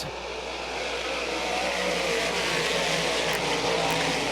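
Race cars roaring together on the final one-lap shootout at Canandaigua dirt track, a steady, loud wall of engine noise building slightly as the field charges past, with no talk.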